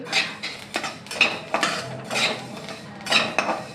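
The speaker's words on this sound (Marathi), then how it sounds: "आणि ह्याच कढाईमध्ये आता तीळ भाजून घेणार आहे" Sesame seeds roast in a kadhai over a low flame, with a utensil scraping and stirring in repeated metallic scuffs and clinks at close range.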